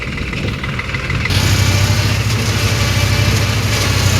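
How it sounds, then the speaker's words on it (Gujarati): A new Swaraj 744 FE tractor's diesel engine starts up and runs at a steady loud idle with a deep rumbling chug, close by and continuous, driving a Shaktiman mobile shredder cutting cotton stalks. "સૌરાજ 744 જે નવું ટ્રેક્ટર લીધું એમાં આજે આપણે મોબાઈલ શેડર ચાલુ કર્યું છે"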